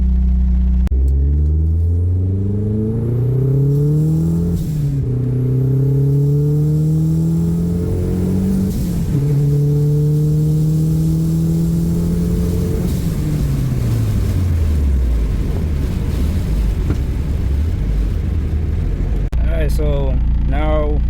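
Mazdaspeed 3 engine, just repaired after a fueling fault, revving loudly in repeated rising pulls through the gears during a road drive, with a short burst of talk near the end.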